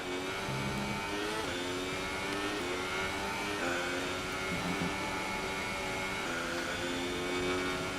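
Formula 1 racing car engines in F1 2018 scream at high revs, a continuous loud, buzzing whine that rises and dips with gear shifts and throttle changes, steady throughout.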